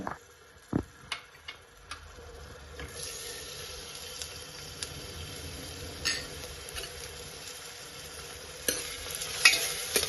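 Onion fries in oil with garlic-ginger paste for chicken rassa, a low steady sizzle under occasional sharp spoon taps and stirring scrapes, fairly quiet and close with no voice.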